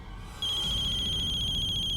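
A telephone rings in a domestic indoor scene, a steady electronic ring that begins sharply after a brief quiet moment and then continues loud and unbroken, with no talk over it.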